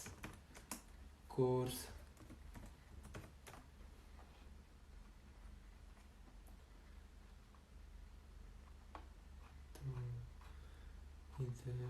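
A computer keyboard clicks in short bursts of typing under someone speaking Hindi, the keystrokes light and close, spread across a steady low background hum.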